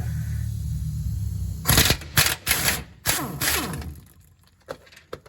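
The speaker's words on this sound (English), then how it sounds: "This is a big gun with a big air compressor on it." A large air impact gun powered by a big compressor rattles in several short bursts against tight oil pan bolts on a 1996 Toyota T100 3.4 V6, with a steady hum before the bursts and quiet gaps between them.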